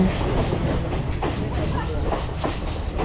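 Train leaving Kandy station bound for Badulla, a steady broadband rumble of the moving carriages with faint rhythmic wheel clatter throughout, with some voices in the background.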